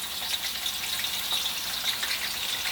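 Onions frying in hot oil for okra stew, a steady bright sizzle and crackle with soft popping, close and continuous with no voices.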